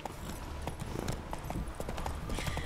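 Horse hooves clip-clop steadily at a trot across ground in The Witcher 3, a continuous rhythmic stream of close, moderately loud hoof strikes with a faint game ambience behind.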